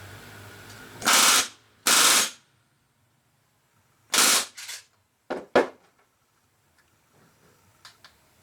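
Several short bursts of rapid pneumatic hammering from a rivet gun setting aircraft rivets on an RV-10 vertical stabilizer, quick rattling spurts separated by pauses, with faint background noise.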